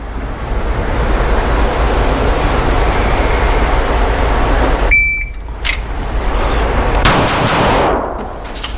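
Heckler & Koch VP9A1 F pistol fired on an outdoor range after a shot-timer beep, loud sharp reports over steady wind-like background noise, no talking.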